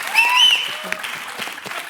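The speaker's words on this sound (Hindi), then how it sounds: "तालियां।" Studio audience applause on a Hindi comedy talk show, a steady wash of clapping from a crowd with a voice speaking over it near the start.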